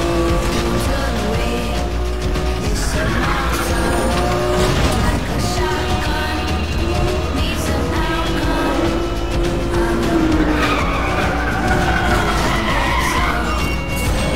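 A car drifts in the Need for Speed The Run racing video game, its tires squealing in long sustained screeches over a loud, continuous engine roar.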